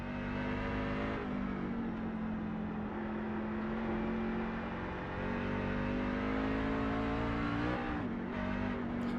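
Race car engine revving in iRacing, a strong continuous drone with a clear rising pitch, dipping briefly at a shift near the start and again near the end before climbing once more.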